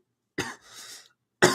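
A man coughs two times, two sharp, close bursts with a short raspy breath between them, set against silence.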